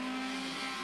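Race cars at the Katukurunda circuit roar off the starting grid at a 2009 race meet, a dense, steady engine drone with a strong low hum that carries loud throughout.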